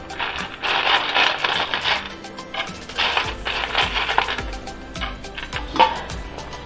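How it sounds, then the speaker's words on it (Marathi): Fried lentil dumplings are dropped into a pot of papad curry, producing a series of close, irregular clattering knocks and soft splashes in several bursts, with no talking. "यामध्ये मी हे तळलेले सांडगे टाकते."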